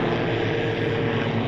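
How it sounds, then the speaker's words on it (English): Helicopters fly overhead above an army zone, a steady loud rotor and engine drone filling the air without pause. "there's helicopters"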